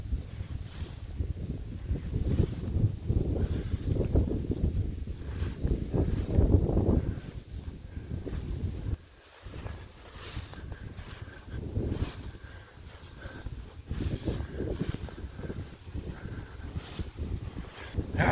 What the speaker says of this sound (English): God dang, kids, this wind.